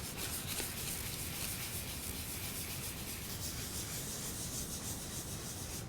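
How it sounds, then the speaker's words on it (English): Wood is sanded by hand with 220-grit sandpaper in smooth, continuous rubbing strokes, close and quiet, with no one speaking. "I'm going to come in here and I'm just going to carefully sand this."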